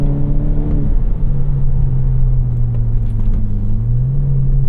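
A 2018 VW Golf GTI SE engine drones steadily up close, its pitch sagging and then climbing again as the driver attempts a heel-toe downshift, a continuous loud rumble with no talk.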